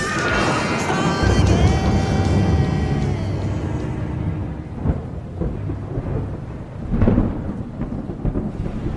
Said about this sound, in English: Our film starting out on a rainy night as it's storming.